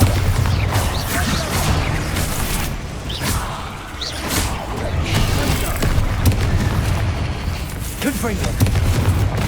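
Bombarda spell blasts in the video game Hogwarts Legacy, loud booming explosions and crashes repeating amid battle noise, with a voice calling out spell names over the fight.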